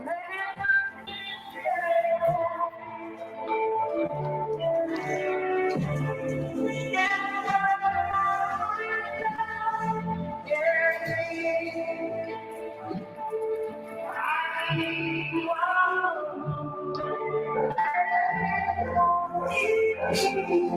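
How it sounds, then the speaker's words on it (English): AI-generated song in poor-quality mono, with guitar and a singing voice running continuously at steady level, harmonically dense and slightly smeared. "What you hear is a song, but the quality is really poor."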